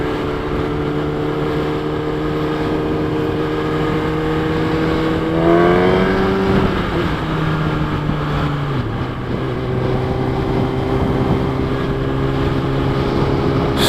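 A 2012 Kawasaki Ninja ZX10R with 57,000 km on it rides along with a loud, steady engine drone under heavy wind rush, its pitch climbing on acceleration and then dropping sharply at an upshift before steadying again.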